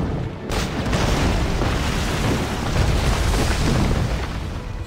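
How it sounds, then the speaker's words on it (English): Smoke bombs burst in Assassin's Creed Rogue, a dense, sustained booming rumble after a brief quiet start, loud and continuous for several seconds. "We got smoke bombs."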